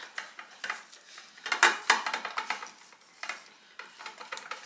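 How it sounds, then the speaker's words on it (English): Spoon stirring a chili powder mixture in a pot, a run of fairly close scraping and clinking strokes against the pot, briefly louder in the middle, with no talking. "I'm going to give this a good stir."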